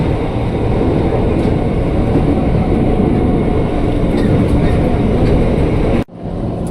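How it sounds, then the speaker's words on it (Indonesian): A KRL commuter train rumbles loudly into Duren Kalibata station, a dense continuous roar of wheels and carriages close by that cuts off sharply near the end. "ini langsung masuk lagi nih komuter lain tujuan Jakarta Kota di stasiun Duren Kalibata"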